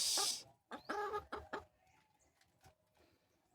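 Rhode Island Red breeder hens cluck close by. A few loud, sharp clucks come in the first second and a half, followed by softer, scattered calls and quiet farmyard background.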